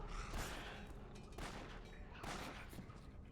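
Pistol gunfire in the action RPG Torchlight, several loud bursts of shots arriving in rapid volleys roughly a second apart over a constant background of game noise.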